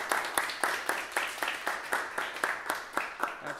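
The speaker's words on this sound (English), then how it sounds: "So Ronan, round of applause." Audience applause after a guitar solo at a high school jazz band's final concert, a steady crowd clapping with rhythmic bursts running through the whole stretch at moderate volume, with no talking over it.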